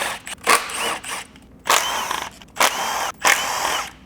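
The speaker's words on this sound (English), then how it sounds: "Now we're gonna take out our oil pan bolts," Short repeated bursts of a power tool spinning out T30 oil pan bolts on an MK7 Volkswagen, four or five loud whirring runs separated by brief pauses, close up with no talk.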